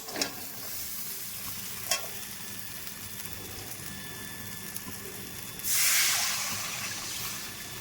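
A pan of fried fish and spice masala crackles softly until water is poured in, producing a sudden loud hissing sizzle near the end, close up with no talking.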